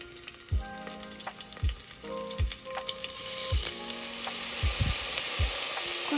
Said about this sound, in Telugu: ఆయిల్ వేసిన తర్వాత ఇవన్నీ స్పైసెస్ ఒకటేసారి వేసేసుకోవాలి. ఫస్ట్ మిర్చి, తర్వాత ఆనియన్స్,